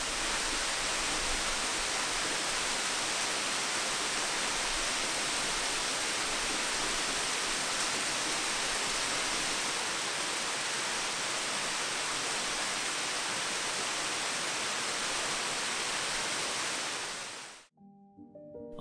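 The Cascade de la Brive waterfall near Cerin in the Ain gives a steady, loud, broadband roar of falling water that continues unbroken for most of the clip, then drops off abruptly near the end.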